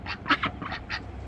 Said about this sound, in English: The ducks quack, quack.